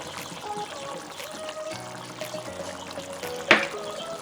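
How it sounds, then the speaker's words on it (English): Cornstarch slurry poured into a simmering casserole sauce over medium-low heat, a soft trickling, liquid flow with gentle bubbling underneath and a sharp clink near the end. "We're going to add in our cornstarch."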